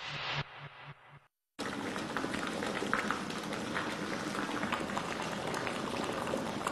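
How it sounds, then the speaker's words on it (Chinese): Water boils hard in a kettle, a dense steady bubbling and rumbling that runs on after a brief moment of silence. "就是拿开水壶啊烧啊"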